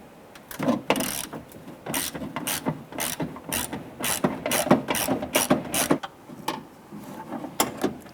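Rapid ratchet clicking in repeated bursts, close and loud, as a hand ratchet backs out a screw on the exterior door handle of a 2005-2010 Chrysler 300.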